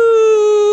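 A voice imitates the call of an indri lemur with one loud, sustained, steady wailing tone.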